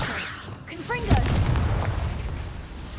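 A Confringo blasting spell in Hogwarts Legacy bursts with a short, punchy boom right after a brief voice, its rumbling tail fading quickly.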